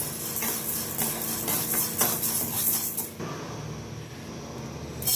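Urad dal, chana dal and rice dry-roasting in a pan for idli podi, with a continuous dry rattling and scraping as the mix is stirred, close and steady with no talk.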